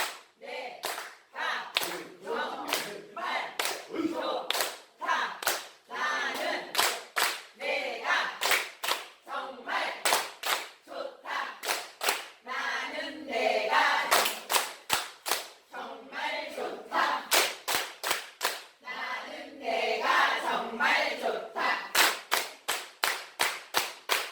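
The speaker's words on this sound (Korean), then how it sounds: "말을 하고 박수를 치는 거예요" People clap their hands in a loud, repeated rhythmic pattern during a dementia-prevention group exercise, sharp bursts alternating with pauses and faint voices between rounds.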